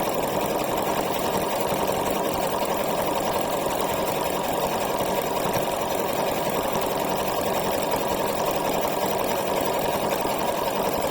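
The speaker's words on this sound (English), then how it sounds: "what we're doing is covering that zigzag over with the satin stitch." A sewing machine runs a dense satin stitch over an earlier zigzag stitch, giving a steady, fast mechanical whir and rapid needle clatter, close and continuous throughout with no voices.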